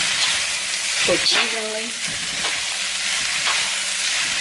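Sauce hits hot noodles with chicken and shrimp in a pan for chow mein, a loud continuous sizzle and frying hiss with stirring scrapes, while someone briefly talks over it.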